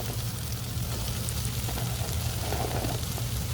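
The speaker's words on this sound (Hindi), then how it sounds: "हम इसके अंदर अपने चने ऐड कर देंगे।" Boiled black chickpeas tumbling into a pan of frying masala, a steady close sizzle and crackle with a low hum underneath, no talking.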